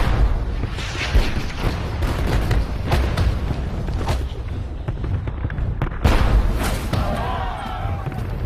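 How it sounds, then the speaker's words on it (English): British artillery fire at the Battle of Waterloo, dense booming blasts and thuds rolling over a loud, chaotic battlefield din, with repeated heavy impacts throughout. "As the Old Guard march toward the ridge, they get a taste of British artillery."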